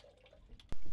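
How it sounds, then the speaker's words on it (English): Seawater rinses a neuston net cod end sample onto a fine mesh aboard a research vessel: faint dripping first, then a sudden loud close pour and splash. "We can then rinse the cod end and again pour it back onto the mesh to make sure all of our sample"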